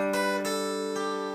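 Plucked strings play a simple fingerpicked pattern, three distinct note attacks over a steady ringing chord, heard up close with no talking.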